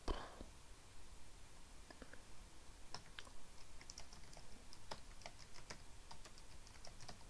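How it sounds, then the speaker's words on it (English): Soft, irregular clicks of keys being tapped on a computer keyboard, quiet and close, in short bursts over a low background hiss. "And start typing the question."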